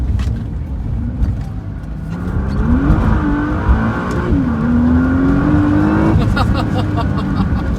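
A Nissan GTR or Tesla sports car accelerates hard, its engine note climbing and rising in pitch in steady sweeps, loud and close with a constant road roar underneath.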